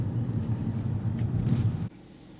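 A Kia Forte drives along with a steady low engine and road rumble heard from inside the cabin, which drops off abruptly near the end.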